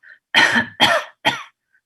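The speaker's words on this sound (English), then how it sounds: "So when I cough" Three sharp coughs in quick succession, loud and close, with brief silence around them.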